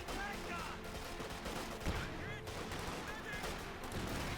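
Rifle grenades and pack howitzer shells firing in the Company of Heroes 2 strategy game, a dense continuous wash of distant gunfire and explosions rumbling throughout, with no clear voice.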